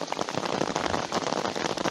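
Steady rain patters densely on a surface nearby, a continuous hiss of drops with no voices.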